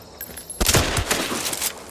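Gunfire in the video game Marathon: a quiet moment breaks into a loud, close burst of rapid shots that keeps rattling to the end, with no talk over it.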